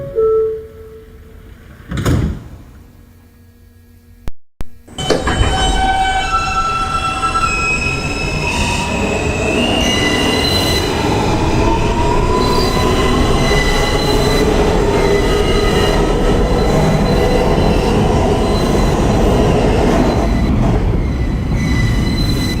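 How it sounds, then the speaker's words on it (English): An NYC subway N local train, an R160, pulls out of the Times Square–42nd Street station: a brief quiet moment, a door thump, then loud rising motor whine, rumble and wheel squeal that continue steadily throughout. "This is a Queens-bound N local train."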